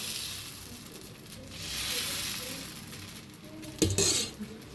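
Dosa batter spreading across a hot tawa on a full flame gives a steady, soft sizzle with light scraping, rising briefly near the end.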